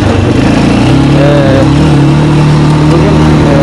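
An ATV engine revs loudly with the microphone mounted right at the exhaust, giving a harsh, continuous buzzing drone with slight pitch rises, very close and dominant.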